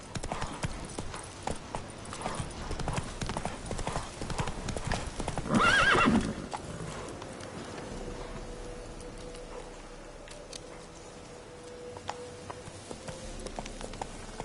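A horse named Roach trots with a steady clip-clop of hooves, close and distinct, with a short loud whinny partway through and light rain-like patter behind.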